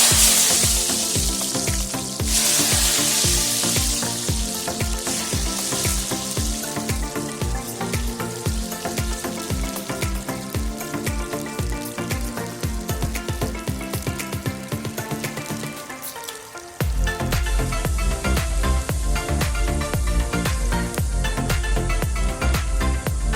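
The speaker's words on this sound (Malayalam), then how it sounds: "നന്നായി ചൂടായിട്ടുണ്ട്. നമുക്ക് ചക്ക ഇട്ട് കൊടുക്കാം." Pieces of raw jackfruit drop into hot oil for a crunchy fried snack, and a loud, dense, continuous sizzle and bubbling carries on throughout with a brief dip partway through before it resumes at full strength.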